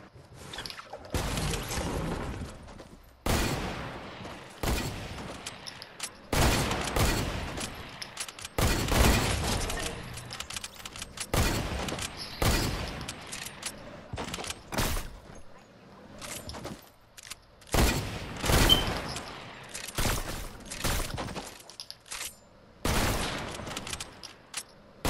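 Bursts of gunfire from the video game Fortnite, sharp clustered volleys and rapid strings of shots repeating irregularly over about twenty-five seconds, loud and close, with quiet gaps between.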